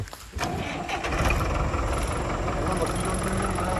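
Tractor engine cranking and catching in a Punjab field during maize sowing, a brief starter burst then a steady loud mid-pitched running rumble, with people talking nearby.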